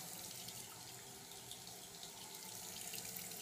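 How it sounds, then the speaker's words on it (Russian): Water runs steadily from an opened tap in an Arduino-based water leak protection prototype setup, a continuous even faint rushing hiss with no talk. "Видим, что вода потекла."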